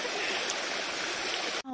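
A river's broad, steady rush of flowing water fills nearly the whole stretch, loud and close, then breaks off abruptly near the end as a voice briefly cuts in.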